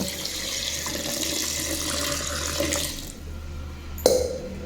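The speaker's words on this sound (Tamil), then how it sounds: "மட்டன் வேகிறதுக்கு தண்ணி" Water pours steadily into a pressure cooker of mutton seasoned with salt and turmeric for a biryani, a continuous close rush that stops abruptly, followed by a single metallic clank.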